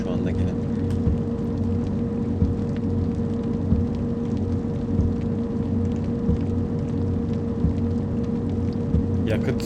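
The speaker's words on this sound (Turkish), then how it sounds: "Dinlendirici bir sesi var. Yağmur sesi." Steady rain patters continuously, a dense even hiss with a low rumble underneath, constant throughout with no pauses.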